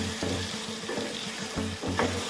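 Chicken livers with turmeric frying in a pan while being stirred, a constant loud sizzle broken by repeated scraping strokes and clanks of a spoon against the pan.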